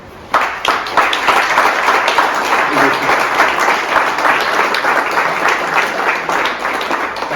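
At a Sainte-Barbe ceremony in Malestroit, a crowd applauds volunteer firefighters with loud, close, sustained clapping that starts abruptly and continues steadily to the end.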